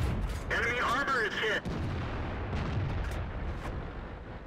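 Heavy tank cannon fire in World of Tanks, booming and rumbling over a dense, noisy battle background with a brief sweeping whine near the start.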